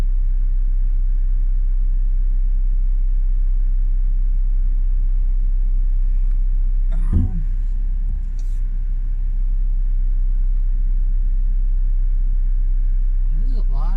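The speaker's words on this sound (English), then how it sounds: "there's a lot of traffic right outside my own door" Road traffic right outside a front door during a morning commute makes a steady, loud low rumble, with one vehicle passing close by midway and then fading.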